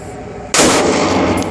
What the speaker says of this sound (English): Shooting my Wiley Clapp limited edition of 2500 357 Magnum for Ruger.